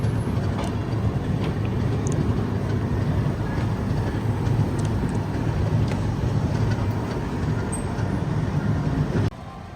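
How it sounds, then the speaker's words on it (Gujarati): An Indian Railways diesel locomotive runs with a steady, loud low rumble and clatter throughout, heard continuously from close by before dropping off abruptly near the end. "આ છે ડીઝલ એન્જિન, જે ઇન્ડિયન રેલવેનું ઓળખાણ હતી પહેલાં"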